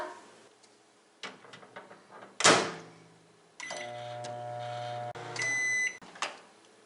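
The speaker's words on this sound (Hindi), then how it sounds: "इसको माइक्रोवेव में 30 सेकंड के लिए इसको पका लेते हैं।" A microwave oven cooking an eggless apple mug cake: button beeps and a door clunk, then a steady electrical hum while it runs, ending in a series of loud beeps close by.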